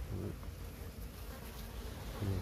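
Honeybees at a hive give a dense, continuous low buzzing hum, close and steady for the whole stretch with no voices.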